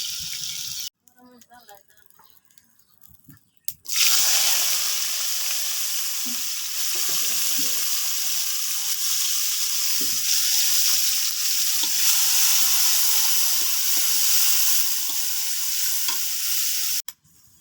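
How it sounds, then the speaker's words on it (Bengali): Plantain slices frying in hot oil give a loud, steady sizzle that starts abruptly and runs continuously close up, with occasional stirring clatter and no talking over it. "এই দেখো, আমি কলাটা ভাইজে নিছি"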